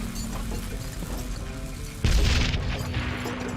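A grenade explodes in Call of Juarez: Gunslinger, a loud deep boom that bursts in partway through and spreads into a rumbling, crackling tail over a low game soundscape.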